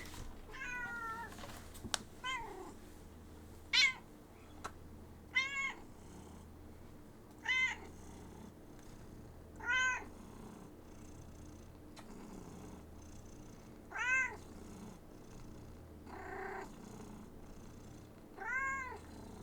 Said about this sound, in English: Isn't she the cute little kitty cat?